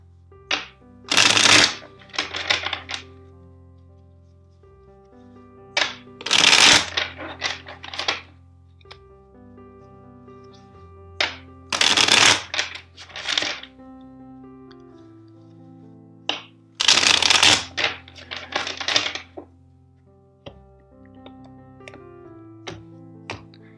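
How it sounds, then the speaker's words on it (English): A deck of tarot cards is shuffled in four distinct bursts of riffling and flicking, close and crisp, separated by short pauses, with soft background music and no talking. "let's shuffle the deck four times for you."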